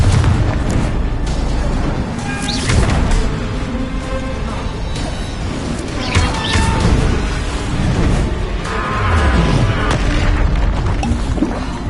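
Confringo blasting spell in Hogwarts Legacy: loud booming magical explosions and crackling bursts repeat amid busy combat noise, with brief shouted voices mixed in.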